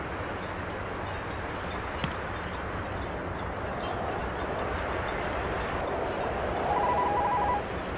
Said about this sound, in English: It's the ticket reader for the cable car.